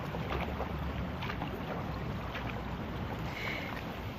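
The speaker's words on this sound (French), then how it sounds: "Pendant ce temps, tu peux écouter le bruit des vagues" Waves wash continuously in a soft broadband hiss, steady and moderately faint, with wind buffeting the microphone throughout and no voices.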